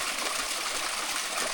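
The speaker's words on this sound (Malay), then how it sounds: "Mini waterfall." Small waterfall on a stream along a mountain hiking trail, a steady close rush of flowing water filling the moment without a break.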